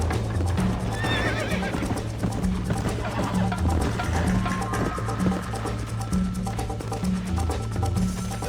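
A horse gallops in Red Dead Redemption, with steady rhythmic hoofbeats, neighing, and a game music bed underneath, loud and continuous.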